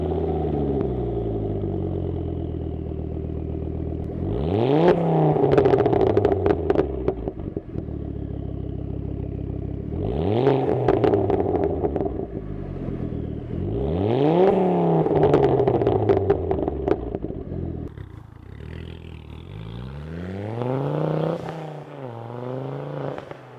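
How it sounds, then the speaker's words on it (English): Ford Focus XR5 Turbo with its five-cylinder turbo engine, heard in repeated loud rev cycles: the engine climbs sharply through the gears, drops back, and rises again three times over a steady, close-up drone, then eases to a lower, quieter run. "the real party piece is the noise. It's an extremely unique motor."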